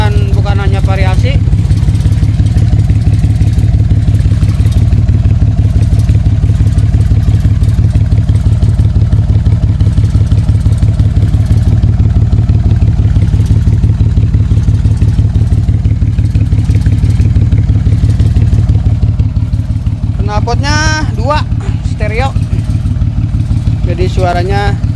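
A 1986 Daihatsu Hijet 1000 with a lowered, modified build runs its engine through a modified exhaust, a loud continuous rumbling idle close to the mic throughout, with brief higher squeals near the end.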